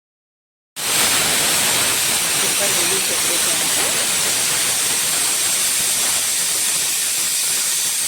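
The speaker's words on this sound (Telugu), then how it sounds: "ఇంకొక విజిల్ రావాలి. ఆ కుక్కర్ విజిల్ అయిపోగానే" A pressure cooker whistle releases a sudden, loud, steady hiss of steam in a kitchen, starting abruptly after a brief silence and continuing without a break.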